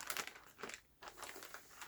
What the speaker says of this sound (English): all of our puzzle pieces come in this crinkly plastic bag